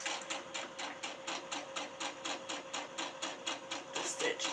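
A sewing machine stitches a pillowcase seam with a rapid, even run of mechanical needle taps, steady and fairly quiet, close by, with no talking.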